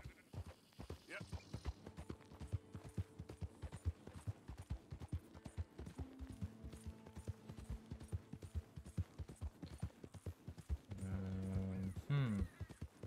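Horse hooves clip-clopping in the Red Dead Redemption 2 video game, a steady rhythmic trot at mid distance under ongoing talk, ending with a short, loud whinny near the close.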